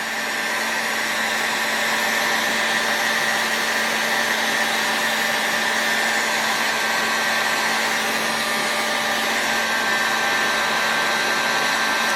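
Steady, loud blowing roar of a heat source warming an aluminum engine crankcase from a Saito FA 300T for bearing installation, with a high constant whine running unchanged throughout and no pauses.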